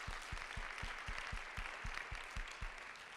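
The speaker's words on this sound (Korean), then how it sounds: "우리 하나님께 영광의 박수 함께 돌리도록 하겠습니다." A congregation at a university chapel service claps together in a steady, even rhythm, roughly a dozen clear claps over a soft background murmur, moderately distant.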